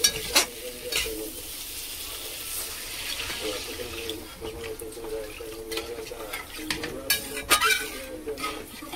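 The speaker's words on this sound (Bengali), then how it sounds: "মশলাটা ভালো করে ভাজা হয়ে গেছে, আলু সিদ্ধ হয়ে গেছে, এবার জল দিয়ে দেব" Water is tipped into a pan of fried spices and boiled potatoes for a fish curry, setting off a loud burst of sizzling and bubbling that settles into a hiss, with spoon scrapes and clanks throughout.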